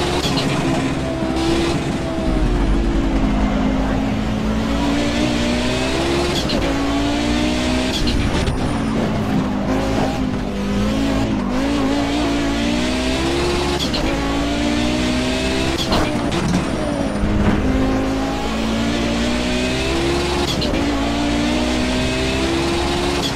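An old race car with no ABS, traction control or stability control, driven in Project Cars, its engine droning loudly and continuously, the pitch rising and falling through acceleration and gear changes.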